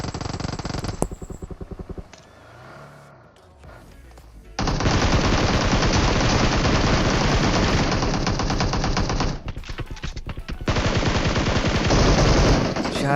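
Long bursts of rapid automatic gunfire in the battle-royale mobile game PUBG Mobile, loud and close, starting with a brief volley, then a lull, then sustained fire with short breaks, faint voice underneath.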